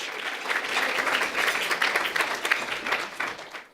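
An audience at a panel discussion on reducing gun violence applauds the panelists and moderator, a dense, steady wash of clapping lasting several seconds before tapering off at the end.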